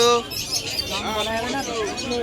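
Pet birds at a large exotic bird market, a lutino and pastel pair among them, chirping in bright repeated calls over a busy crowd with talk in the background.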